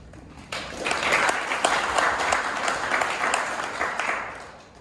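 Steady applause from a crowd at a startup demo day fills the room, rising quickly and holding for several seconds at a moderate level before tapering slightly.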